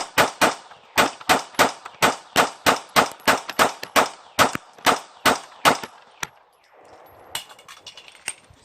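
A Taurus PT111 Millennium G2 pistol is fired in a rapid mag dump outdoors in cold weather. About seventeen sharp, loud shots come at a steady quick rhythm, then stop. A few metallic clinks follow in the quieter tail.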